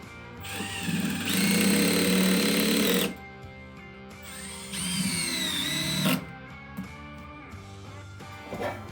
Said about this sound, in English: We put our fasteners in. And these are the pancake head screws.